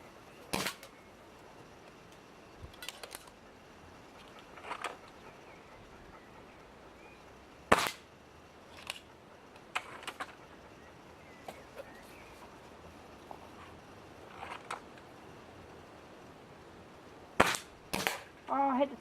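Air rifle shots fired at a tank target ring out as sharp, isolated cracks at irregular intervals, some in quick pairs, over quiet outdoor background with faint birdsong.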